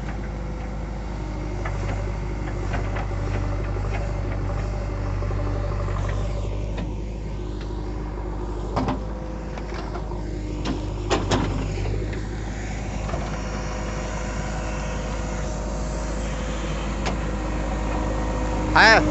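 A JCB excavator engine runs at a field worksite, a steady low idling rumble throughout with occasional clanks, while people talk faintly in the background.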